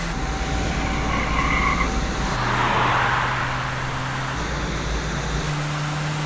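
A car drives in the video game Max Payne 3, a steady engine drone with shifting pitch as gears change, mixed with road rumble and tense game score underneath.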